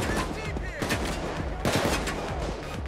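Rapid gunfire in the Payday 2 heist level Transport Downtown, with dense overlapping shots and bursts, loud and continuous through the clip.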